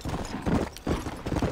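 Horse hooves clip-clop in the video game Red Dead Redemption, a quick, uneven run of close hoofbeats at a trotting pace, clear and fairly loud, with no talking.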